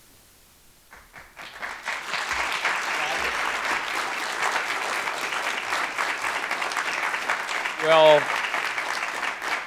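An audience applauds after a university faculty lecture on youth mental health and addictions, with sustained, dense clapping that swells and holds. A voice speaks briefly near the end.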